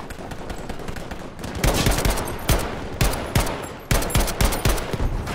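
Gewehr rifle gunfire in the Battlefield V video game, dense loud shots and rapid bursts from several weapons in a close battle, with sharp cracks over continuous firing.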